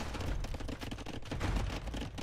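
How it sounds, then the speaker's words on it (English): Bombard cannons shell a position in an Age of Empires match, a loud, rapid barrage of overlapping booms and impacts with no pause. "Barl's shelling away at Lewis"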